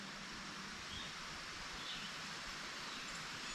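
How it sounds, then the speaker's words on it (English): Steady, even rushing of a stream flowing in the background, a continuous soft wash of water with no voices. "You can hear the stream in the background here."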